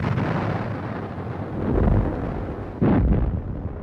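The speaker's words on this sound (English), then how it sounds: "These guns were pointed and firing right down on the beach." Big guns fire down onto a beach in a D-Day combat scene, sounding as heavy, rumbling booms with a dense noisy roar between them and a sharper, louder blast near the end.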